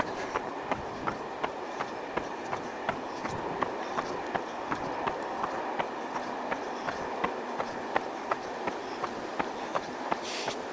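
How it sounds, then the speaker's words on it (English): A train rolls past with a steady clickety-clack of regularly spaced wheel clicks over a continuous rumble, moderately close. "There goes the train."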